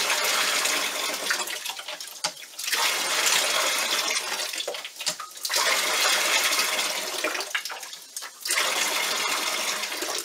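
Water gushes in strong, broad surges from a manual in-house water pump, each pumping stroke giving a loud rush that briefly breaks off before the next, with no talking.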